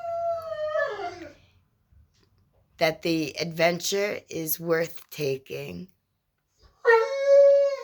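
A dog howls indoors in long, wavering rising-and-falling cries, first alone and again near the end, with a person talking calmly between the two howls.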